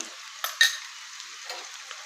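Tomato puree sizzles in a pan with garlic, ginger and onion for an egg kofta curry. A soft, hissing fry is punctuated by a few sharp utensil scrapes and clinks.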